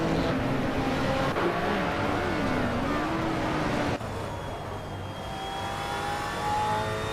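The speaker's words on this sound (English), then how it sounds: "driving a 2010 Aston Martin Vantage GT4" A 2010 Aston Martin Vantage GT4 race car in a racing video game gives a sustained engine drone that rises and shifts with gear changes, loud and continuous, with other cars faintly nearby.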